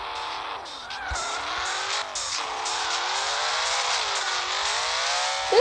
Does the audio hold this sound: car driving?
yes